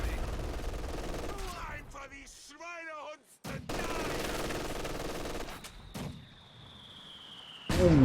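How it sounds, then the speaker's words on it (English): Mortar shells and gunfire in a Company of Heroes 2 online 2v2 match, with bursts of firing, heavy impacts and a sharp explosive hit amid constant battle noise, under a commentator's voice. "Ooh, that's a big mortar hit."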